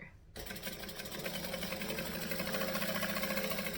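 A sewing machine stitches a fabric seam in a fast, even, close-up mechanical chatter that starts abruptly after a brief pause and runs steadily to the end, with no voices.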